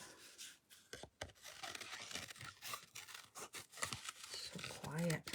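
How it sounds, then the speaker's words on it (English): Close, quiet snipping and rustling of scissors cutting stamped paper in short irregular bursts, with a soft voice murmuring faintly underneath. "Scissors."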